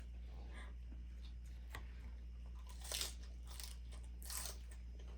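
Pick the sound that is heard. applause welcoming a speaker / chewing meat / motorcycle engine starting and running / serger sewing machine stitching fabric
chewing meat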